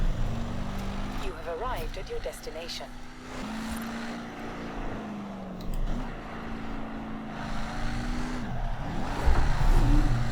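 Heavy off-road 4WD car power sliding in Forza Horizon 4, a steady engine drone with shifting pitch and tire scrub running throughout, with people talking and laughing over it.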